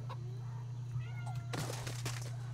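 House cat meowing indoors over a steady low hum, a few soft meows early followed by louder, clearer meows toward the end.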